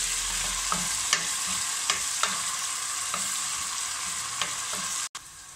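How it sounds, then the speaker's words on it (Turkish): Peas dish with garlic and ginger paste being stirred in a pan, a steady sizzling hiss broken by several soft, evenly spaced spoon scrapes close by, ending in a brief dropout. "Karıştıralım."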